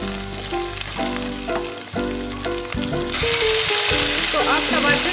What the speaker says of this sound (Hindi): हमने इसमें ऐड किया लहसुन अदरक का पेस्ट। 1 मिनट अच्छे से फ्राई करेंगे